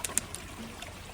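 Water pours and trickles from a bucket at a ruby and sapphire gem mine in North Carolina, a faint, brief splashing with a few soft drips.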